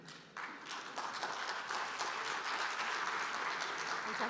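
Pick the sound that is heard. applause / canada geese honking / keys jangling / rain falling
applause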